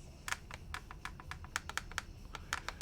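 Close, crisp typing on a Sho S60 mechanical keyboard, with a quick uneven run of clacky keystrokes and no talking.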